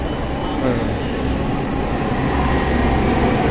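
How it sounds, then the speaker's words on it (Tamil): A Delhi Metro train rumbles steadily and loudly through a crowded station, a dense mechanical roar with faint voices mixed underneath. "ஜஸ்ட் மெட்ரோ வந்துருச்சு பயங்கர ஃபாஸ்ட்டாக வந்துருக்கு"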